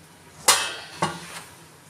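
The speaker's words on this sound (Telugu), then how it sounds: "ఇప్పుడు రైస్ యాడ్ చేసుకుందాము." Rice being dropped into a pot of keema biryani: two distinct clattering splashes of grains hitting the pot about half a second apart, then a fainter third, close and fairly quiet, no talking.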